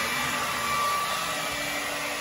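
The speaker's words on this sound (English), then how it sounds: "I'm using a hair dryer, and I built this Lego car" Hair dryer blowing a steady, even rush of air to push a self-propelled Lego car, heard close and alone without any change in pitch.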